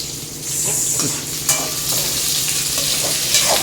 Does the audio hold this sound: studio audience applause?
no